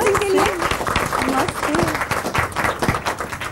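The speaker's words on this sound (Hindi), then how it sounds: "तालियां अर्जुन सिंह के लिए।" Studio audience claps for a brave young boy being honored on a television show, a dense patter of hands running under a voice that talks over it throughout.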